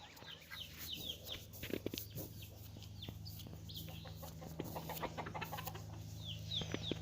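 Several hens and a rooster cluck and chatter steadily in a farmyard that also holds drakes, with overlapping calls close by against a constant low background hum.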